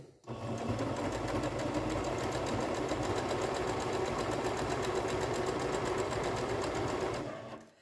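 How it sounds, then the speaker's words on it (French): A sewing machine, recently repaired, runs steadily through a few stitches in patchwork fabric. The whirring motor and fast needle clatter are close and continuous for about seven seconds, with no talking. "je viens coudre quelques points avec"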